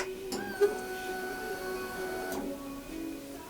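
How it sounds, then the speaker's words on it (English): A fuel pump priming on a Honda VFR 800 motorcycle after the ignition is switched on, a faint steady electric whine lasting a couple of seconds with a small click near the start. "Fuel pump primed, so the fuel injection system is working."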